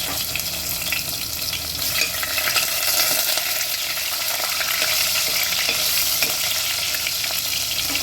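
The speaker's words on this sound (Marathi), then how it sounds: "आता आपण फोडणी टाकून घेऊया सुरुवातीला आपण त्याच्यात जिरं टाकून घेऊया" Cumin seeds, bay leaves and crushed garlic sizzle and crackle in hot mustard oil as a tempering, a dense, steady frying hiss lasting throughout with no voices.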